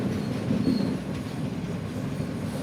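A train rolls steadily along a coastal line near Colombo, with a continuous low rumble and faint wheel noise, heard close from on board at an even level.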